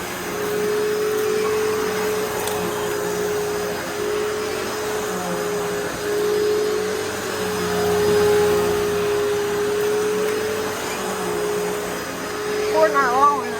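A Hoover Elite Rewind upright vacuum cleaner runs steadily up close with a constant whirring motor hum and a faint whine, its pitch wavering slightly as it is pushed across the floor.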